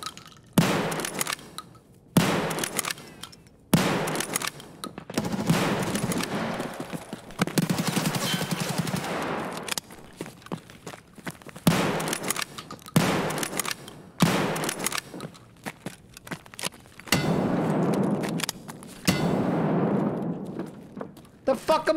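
Gunfire in Escape From Tarkov, repeated loud bursts and sustained automatic shooting with short pauses, close and heavy, mixed with someone talking over it.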